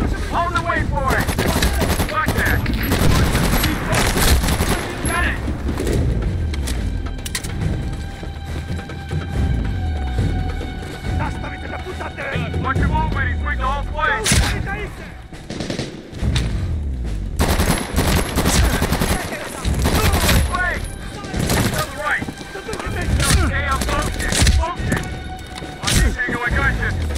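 Gunfire in the Medal of Honor: Warfighter video game, loud sustained automatic bursts and rapid shots layered over dense battle noise, nearly continuous with brief lulls, with voices talking underneath.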